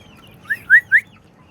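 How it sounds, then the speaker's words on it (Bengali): An Indian rooster gives three short, high chirping calls in quick succession, close and fairly loud, with quiet surroundings otherwise. "এটা ডাইরেক্ট ইন্ডিয়ান মোরগ, অনেক সুন্দর"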